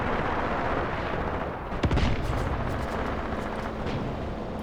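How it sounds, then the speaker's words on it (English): Anti-tank guns fire on a tank in the forest in Graviteam Tactics, one sharp booming shot landing around the two-second mark over a dense rumble of continuous battle noise. "I think it's the anti-tank guns that are engaging this one."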